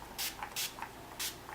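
Urban Decay setting spray misted from a pump bottle in three short, crisp hissing bursts, each followed by a faint click of the nozzle, heard close and alone in a quiet room.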